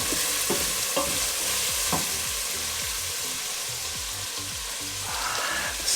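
Onion, garlic and ginger sautéing in a pan for a Filipino dish, a strong constant sizzle broken by rhythmic stirring scrapes and spoon taps, heard alone.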